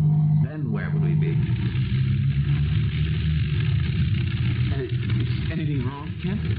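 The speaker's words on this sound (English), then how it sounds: "I don't like the sound of that engine." An aircraft engine in an old radio drama drones unevenly with a low, wavering hum beneath the voices of people talking throughout.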